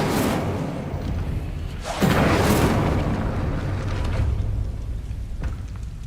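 Incendio fire spell cast at a gate in Hogwarts Legacy, a dull rumble that flares into a loud fiery whoosh and roar at about two seconds, then settles into a steady crackling burn.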